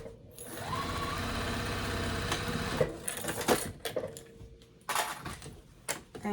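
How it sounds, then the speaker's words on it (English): A sewing machine stitches straight across a quilted boxy bag, a steady mechanical whir for the first few seconds, then breaking into scattered clicks, knocks and handling noises with short bursts. "And you just sew straight across, making sure y'all can see that."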